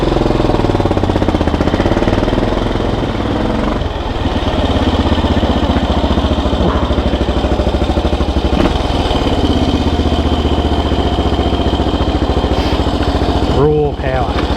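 Suzuki SP400 motorcycle engine running loud and close with a rough, rapid rattling chug, steady throughout, with brief voices near the end.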